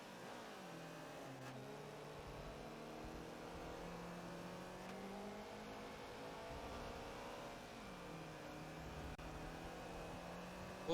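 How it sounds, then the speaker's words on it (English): Race car engines in a Subaru BRZ championship race in a racing video game at Yas Marina's North Corkscrew layout, with several engine tones rising and dropping through gear changes, heard fairly faintly and steadily with no talk. "it looks like LV has picked up some engine damage and possibly over-revving his car"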